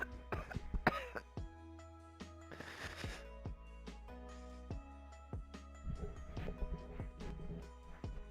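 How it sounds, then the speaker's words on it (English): A man with bronchitis, irritated by smoke, coughing and clearing his throat several times, close and fairly quiet, with light clicks and a low steady hum between the coughs. "I keep coughing, yo. The smoke got me."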